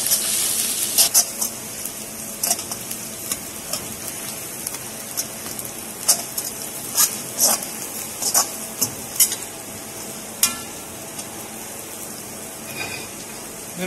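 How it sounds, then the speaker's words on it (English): Ginger fries in a hot pan, with irregular scraping stirs and taps of a utensil against the pan over a constant hiss. "continue frying the ginger."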